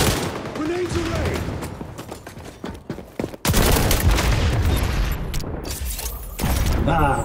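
Grenade explosions and rapid gunfire fill an XDefiant match, dense bursts of shots and booms with a brief gap midway before the firing surges back loud.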